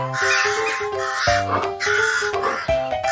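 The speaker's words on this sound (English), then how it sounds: "Eagle." Loud, close eagle calls repeat in harsh, rasping bursts of varying length, heard alone with no speech over them.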